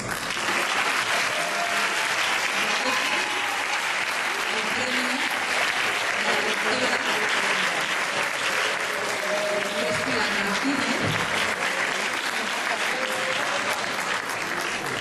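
Sustained, dense applause from a large crowd at a Christmas school awards ceremony, steady and loud throughout with no pauses.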